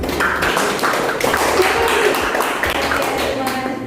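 Schoolchildren clapping for their classmate Sam in a classroom, a continuous patter of many small hands at moderate loudness, with some voices mixed in.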